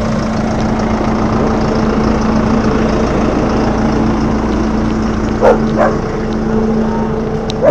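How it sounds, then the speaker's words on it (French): Dogs bark in a few sharp yips over a steady, droning engine idle, likely a tractor on a rural property; the barks come briefly near the end, mid-distance and not very loud. "Alors les chiens ça aboie"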